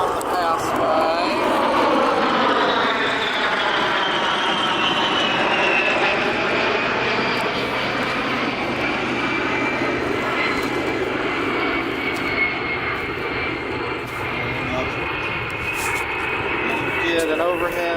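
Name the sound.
flight of four A-10 jets passing by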